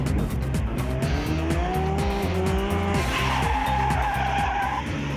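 A car driven hard on a race track roars loudly with rising and falling engine pitch and squealing tires, continuous and close.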